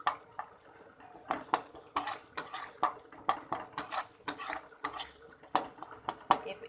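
A metal spoon scrapes and clinks rhythmically against a pan while onions and spices are stirred for katla fish curry, a steady run of sharp knocks roughly twice per second.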